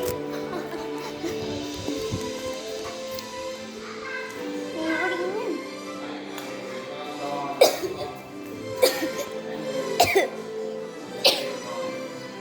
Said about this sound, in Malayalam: നല്ല ചുമ